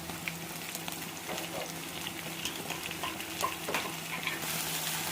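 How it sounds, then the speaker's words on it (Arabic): Garlic and harissa chili paste being stirred in a hot frying pan, with a close, continuous sizzle broken by repeated scraping and clinking of the utensil against the pan, and no talking. "ودبليهم كويس في الطاسه"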